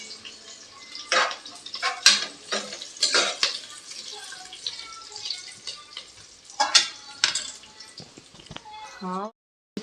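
Mutton tipped into a pan and stirred for a home-cooked gongura curry: scraping, clinking metal, and wet sizzling bursts close up, ending in a brief rising squeak.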